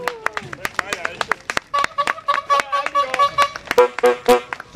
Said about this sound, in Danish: Skal vi klappe rundt